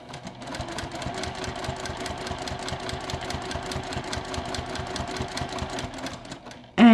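A sewing machine stitches a fabric book sleeve, running fast and even with a steady mechanical patter for several seconds, then stopping abruptly as a brief louder sound takes over.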